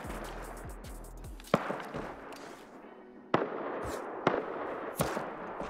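Gunshots in the survival game Rust, several sharp cracks spaced a second or two apart against a busy, noisy background, some loud and close, others slightly softer.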